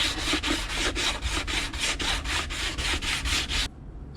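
Rhythmic back-and-forth sanding on a wooden guitar fretboard, about a dozen even strokes in quick succession, close and fairly loud, then stopping.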